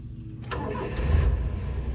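A Honda Acty kei mini truck engine cranks and fires up, settling into a steady low idle close by, with no voices.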